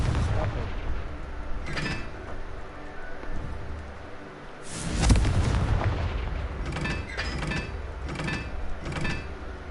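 The Confringo fire spell from Hogwarts Legacy goes off as a sudden heavy boom, followed by several sharper cracking blasts amid low game ambience.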